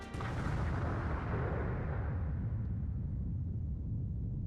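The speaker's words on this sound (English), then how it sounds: "Another explosion." A loud, sustained rumbling blast from the video game Code: Realize - Guardian of Rebirth, a broadband roar that holds steady for several seconds and slowly thins out in the highs.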